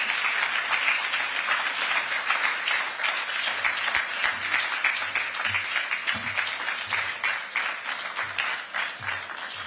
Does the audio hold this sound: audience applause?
yes